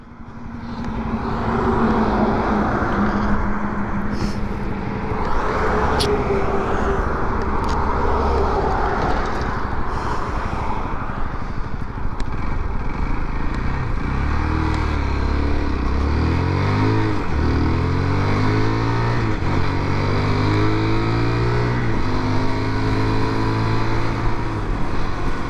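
A UM Renegade Freedom 125 liquid-cooled motorcycle on a test ride, its engine droning steadily with rising and falling revs through gear changes, mixed with constant wind rush and no talk.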